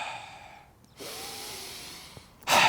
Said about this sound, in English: a trigger for me to start doing deep breathing exercises